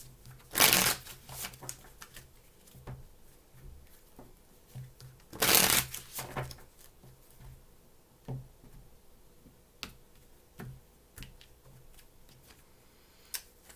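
Tarot cards are shuffled in two short, crisp riffling bursts a few seconds apart, close and clear, followed by quieter taps and light handling of the deck.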